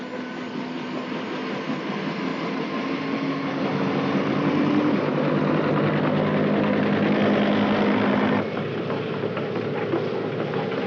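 Loud, continuous engine drone with a rumbling beat from Army helicopters operating from a Navy amphibious ship, holding steady before easing slightly near the end.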